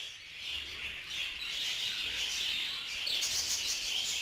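A large flock of budgerigars chirps continuously, a dense high twittering chorus that fills the space with no talking.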